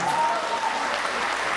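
An audience at a celebration honouring grandparents gives dense, loud applause that holds steady for the whole brief stretch, with a voice faintly audible underneath.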